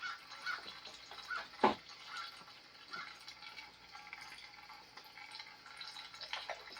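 Used engine oil drains from a 1953 Farmall Super C tractor, heard as faint, close liquid trickling and dripping with a few sharper drops and splashes, one of them louder than the rest.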